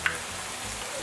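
Plantain slices frying in very hot oil on an electric stove, a steady close sizzle and crackle with one brief sharper pop near the start.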